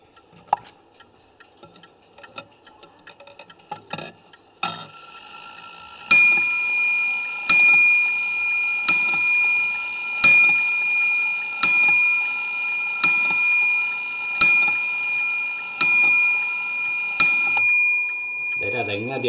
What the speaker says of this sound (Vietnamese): Đấy là đánh điểm giờ đấy các bác ạ.